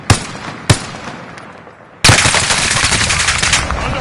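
Gunfire crackles in a shooter video game. Two isolated shots are followed by a sustained, loud automatic burst, with no voices over it.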